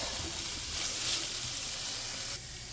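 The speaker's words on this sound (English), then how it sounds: "I'm gonna start frying it, frying" Steady sizzling of vegetables frying in a little hot oil, a constant crackling hiss close by with no talking.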